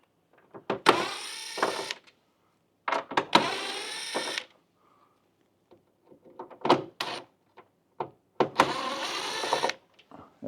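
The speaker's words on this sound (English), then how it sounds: "we've got to take these 4 screws" A power screwdriver on a Tosot mini split front cover whirs in several short bursts, some long and some brief, separated by quiet gaps, recorded close up.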